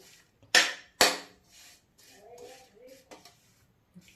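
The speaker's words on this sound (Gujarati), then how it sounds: "હવે આપણે ગોળ નાખીએ સાથે અને હલાવીએ" A spoon stirring jaggery and ghee in a pan for peanut chikki: two sharp metallic clanks against the pan, then softer scraping and rubbing.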